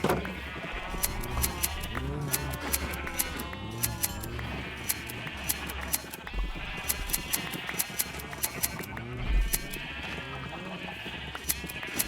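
Minecraft sheep bleat over and over, overlapping and close by, against steady background game music, with no talking.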